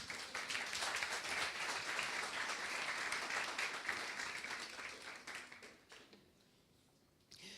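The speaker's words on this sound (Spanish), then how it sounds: "Denle un aplauso al Señor." A church congregation claps for several seconds in a dense, even burst of applause that thins out and fades near the end, leaving a quieter room.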